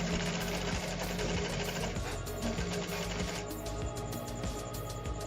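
An industrial sewing machine sews a jeans waistband, running in a fast, steady mechanical chatter with regular ticking stitches. It sounds close and continuous, with no talking.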